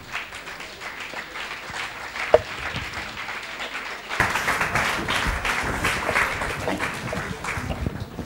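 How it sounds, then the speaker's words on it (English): An audience at an international conference on prenatal development breaks into applause welcoming a female guest, the clapping rising sharply and becoming fuller and louder partway through after a quieter, sparser start. "Let's welcome Madam with a big round of applause"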